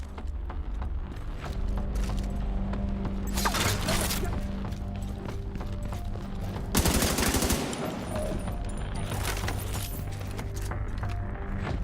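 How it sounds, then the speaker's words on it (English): Repeated bursts of gunfire in The Division 2 crack and rattle in a steady rhythm of single shots and short volleys, with a few louder clustered blasts, over ambient game sounds. "not a good gun for this distance, I guess"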